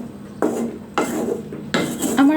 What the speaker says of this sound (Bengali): কিছুক্ষণ ঢেকে রাখার পর আমি হালকা করে নেড়ে চেড়ে দিচ্ছি।